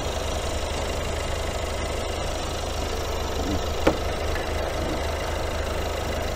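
An air compressor feeding air for a Partex spray application runs as a steady, continuous mechanical hum with an even level throughout, broken only by one brief sharp click near the end.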